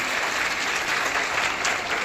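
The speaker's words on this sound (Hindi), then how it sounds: "एक बार और तालियों से अभिनंदन।" Warm, steady applause at a school program celebrating women's empowerment, a loud continuous wash of many hands clapping together throughout, with no talking over it.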